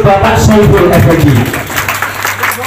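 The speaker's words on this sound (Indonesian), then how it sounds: "Tepuk tangan untuk Bapak Saiful Effendi." A crowd at a neighbourhood halal bihalal gathering in Wonorejo, Surabaya, breaks into loud, close applause mixed with crowd noise and voices, easing off within a couple of seconds.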